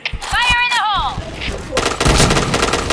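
Gunshots from a video game ring out in a dense, loud burst of rapid fire, preceded by harmonic voice-like sweeps and scattered clicks before the shooting takes over.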